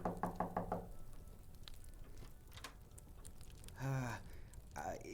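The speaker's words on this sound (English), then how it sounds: "He passed the door a dozen times before he had the courage to go up and knock." A short burst of knocks on a house door opens the scene, several quick raps in a row, fairly close, followed by quiet room tone and a brief voice later on.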